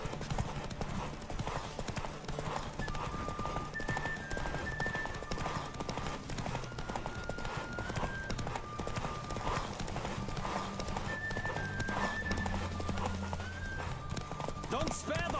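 A horse gallops in The Witcher 3, steady rapid hoofbeats running throughout at moderate level, mixed with music tones and game sounds.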